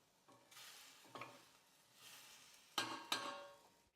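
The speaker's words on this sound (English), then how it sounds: "I'm literally waiting 10 minutes for my berries to stew on the stove" Berries stewing in a pot on a stove, with a few bursts of stirring and sizzling and two sharp clinks of a utensil against the pan, close and fairly quiet.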